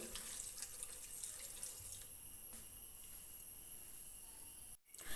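Soft, steady stream of water pouring into a pressure cooker, quiet and continuous, briefly cutting out near the end.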